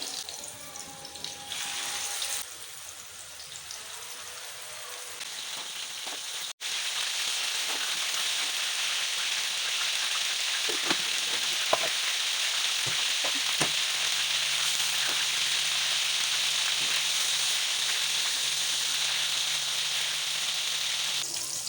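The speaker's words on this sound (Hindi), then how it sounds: "इस तरह से बनाते जाएंगे सारे कबाब और इस तरह से ही हम तलते जाएंगे" Beef chapli kababs fry in a pan of hot oil, a steady hissing sizzle that swells louder after a few seconds and holds evenly, with occasional faint clinks.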